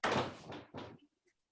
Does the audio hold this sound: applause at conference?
no